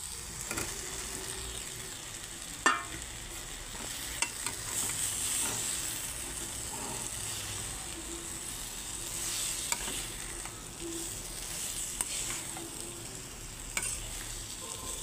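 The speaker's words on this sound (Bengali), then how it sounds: "এখন আলুগুলো দিয়েও আমি 2 মিনিট নাড়াচাড়া করব।" A spoon scrapes and stirs soybean curry with fried potatoes in a pan over steady frying sizzle, giving soft, irregular knocks against the metal with no talking.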